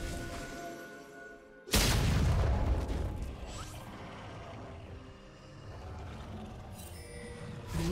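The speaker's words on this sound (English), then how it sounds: "Red team's turret has been destroyed." A turret collapsing in League of Legends: a sudden heavy booming crash that fills the mix, then a rumbling tail of debris over continuing game noise.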